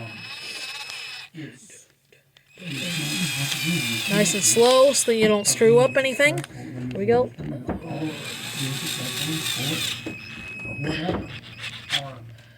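A power drill drives bolts that hold the carburetor on a Toro lawn mower that won't start after winter storage. Short whirring bursts come at the start and again later, with someone talking close by between them.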